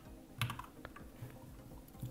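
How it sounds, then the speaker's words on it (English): Soft, close keystrokes tap out on a computer keyboard in an uneven rapid patter, faint over a low background hum, with no talking. "so I'm just typing this one"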